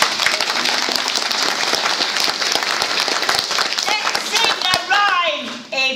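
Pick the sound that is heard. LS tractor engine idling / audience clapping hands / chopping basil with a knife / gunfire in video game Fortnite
audience clapping hands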